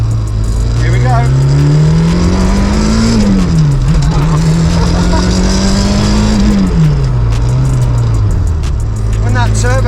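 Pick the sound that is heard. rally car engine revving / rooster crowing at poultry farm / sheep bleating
rally car engine revving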